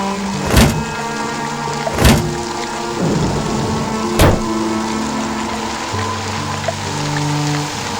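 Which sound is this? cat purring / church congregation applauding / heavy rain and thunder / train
heavy rain and thunder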